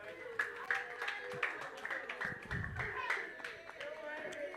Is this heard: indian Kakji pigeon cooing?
no